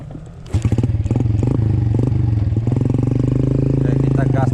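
A motorcycle on a rural rice-field road in Soppeng, South Sulawesi, revs up loudly and close after a quieter half second, its engine holding a strong, steady drone as it pulls ahead toward an uphill stretch.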